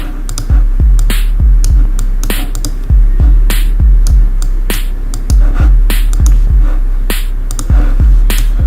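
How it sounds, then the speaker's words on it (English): A synthesized kick drum in an ambient electronica track thumps loudly in a steady repeating pattern, each deep punchy hit decaying quickly, with crisp higher clicks layered between. "So this is the first kick, guys."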